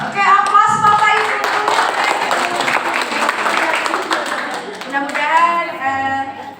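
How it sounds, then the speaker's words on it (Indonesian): Audience applause with clapping rising and filling most of the moment, sustained and fairly loud, with voices over it at the start and again near the end. "aplaus Bapak Ibu"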